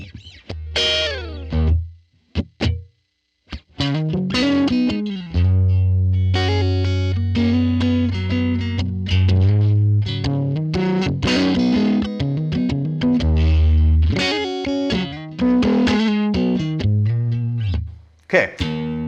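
Electric guitar through a Line 6 Helix amp model into a stock cab, miked with a 160 ribbon at two inches, playing bluesy phrases with bends and a boomy, heavy low end, loud and steady with short pauses.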